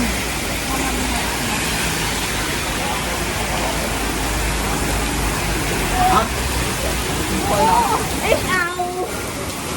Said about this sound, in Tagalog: Umuulan na oh, grabe.